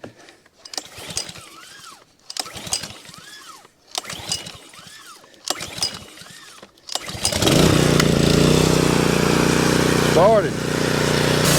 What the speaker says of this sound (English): let's see how hard it is to start this power washer.